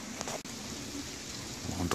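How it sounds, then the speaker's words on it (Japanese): Rain falls at a hillside shrine on a cold day as a steady, soft patter. A few faint knocks and shuffles sit under it, with no speech. "今日あいにくの雨で"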